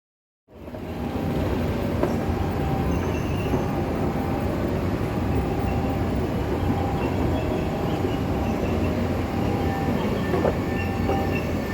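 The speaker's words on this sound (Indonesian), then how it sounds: "dapat kereta listrik terbaru yang didatangkan dari Tiongkok" An Indonesian commuter line's newest electric train, imported from China and running out of Cikarang, gives a steady, loud rolling rumble with faint rail clicks that lasts almost the whole stretch after a brief silent start.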